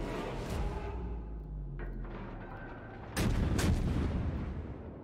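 Warship guns firing in a naval game featuring Tier 3 UK cruisers: a sharp boom opens, then a heavier loud blast lands near the end, with rumbling tails over steady sea and engine ambience.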